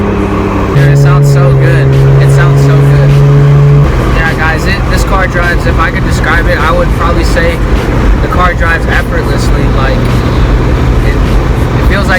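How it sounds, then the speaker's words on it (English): A loud Lexus IS300 engine revs and drops through downshifts, with a sustained drone at first and then rougher rumbling under road noise. "these are some downshifts for you"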